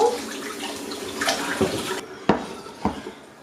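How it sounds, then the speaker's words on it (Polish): Soaking water poured off carp heads in a kitchen, a steady splashing pour with a few clinks of a pot or dish near the end, close and alone. "zaraz zresztą odleję wodę"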